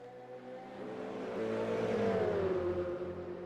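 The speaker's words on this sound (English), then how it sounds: "Great sounding cars too, the Ferraris. All the GT3 cars give a beautiful note and sound." Ferrari GT3 race car engines roar in a racing video game at Portimao, a sustained high-revving note climbing in pitch as the cars accelerate, loud and close with layered engine harmonics and no talk.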